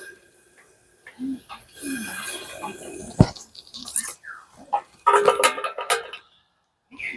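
Someone puts a metal lid on a pan of dudh chitoi pitha, giving a sharp clink, followed by light scattered clatter and splashes, while a person talks over much of the scene.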